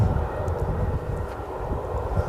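An EasyJet airliner descends toward Manchester Airport, heard as a steady, fairly distant low engine rumble and roar that holds throughout without talk.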